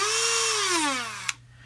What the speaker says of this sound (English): So a Dremel is a roto tool,